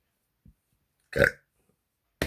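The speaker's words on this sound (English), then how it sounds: "Stop fucking burping!" A person lets out a single short, fairly close burp in an otherwise quiet room, preceded by a faint small noise and followed by a brief clipped sound at the end.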